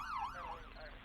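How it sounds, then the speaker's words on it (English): Police car siren wailing in a smooth rising and falling sweep, fairly faint and distant, heard briefly on its own. "30 seconds later, Jordan heard real sirens."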